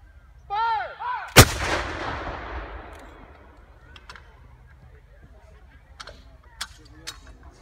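Cannon firing a Remembrance Day gun salute: a single sharp, loud boom that rolls away in a long fading echo, preceded by a brief honking call, with faint outdoor background and scattered distant sounds afterward.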